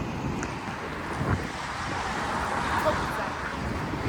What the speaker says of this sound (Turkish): Ya rüzgar var inşallah sesim geliyordur